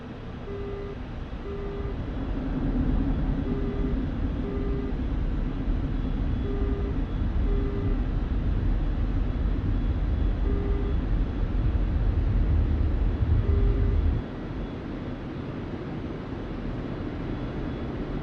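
Su-27 jet in DCS World rolling down the runway and lifting off, a steady loud engine roar with a low rumble that cuts off sharply near the end, leaving a quieter drone.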